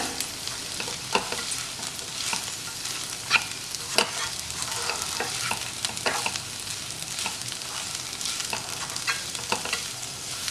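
Okra fry with grated coconut being stirred in a hot pan, repeated spatula scrapes and taps over a continuous sizzle, close and fairly loud with no talking.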